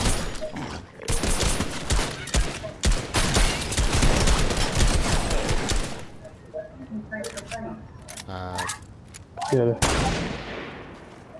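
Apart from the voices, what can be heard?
gunfire in the video game Fortnite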